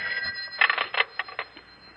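A telephone bell rings in an old radio drama, two short bursts of bright metallic trilling close up and loud, with no voices over it.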